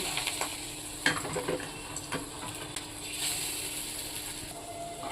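Gadal leaf fritters (bora) frying in hot oil, giving a soft steady sizzle with scattered clicks and knocks of a utensil against the pan, close and fairly quiet.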